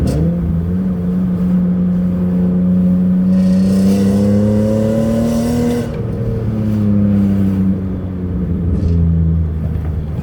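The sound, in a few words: BMW M54 engine backfiring on downshift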